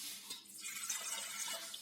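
Cold water is poured onto drained, cooked vermicelli on a plate in a home kitchen, making a steady, soft splashing stream heard close with no voices.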